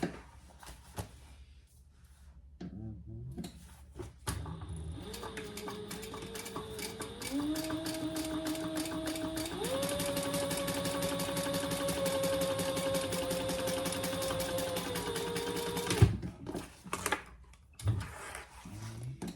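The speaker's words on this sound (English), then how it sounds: "And now we're gonna top stitch right here." A sewing machine top-stitches a cork wallet in one long, continuous run, its motor humming steadily with rapid needle strokes, preceded and followed by short bursts and clicks as the machine starts and stops.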